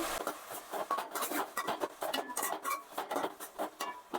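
A spoon stirs tomatoes and rock salt in a pan, giving soft, quick repeated scrapes and light metallic taps, close and quiet, with no talking.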